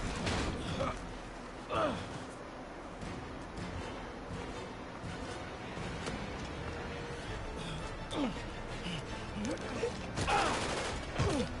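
Scattered gunfire in Marvel's Spider-Man amid a busy mix of game effects, with a few louder shots and clatters rising over a constant background.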